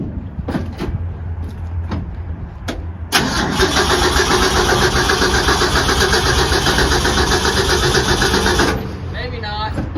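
A junkyard Ford F100 truck engine cranks with a few distinct starter clicks, then catches and roars to a loud, steady run for several seconds before dropping off abruptly near the end.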